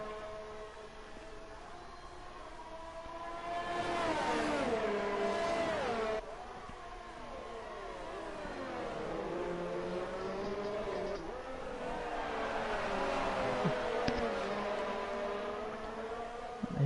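Formula 1 race cars in a video game race around Australia, with high whining engines rising and falling through gear changes as several cars pass close together, continuous over faint commentary.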